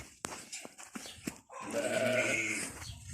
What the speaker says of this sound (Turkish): Alttaki koyunları da göstereceğim size.